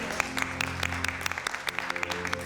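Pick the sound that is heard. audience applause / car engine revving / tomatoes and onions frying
audience applause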